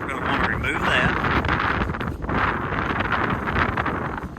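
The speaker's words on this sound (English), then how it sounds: "Wow, it's windy today." Loud, continuous wind buffeting the microphone, a rough low rumble with gusty swells throughout and no clear speech.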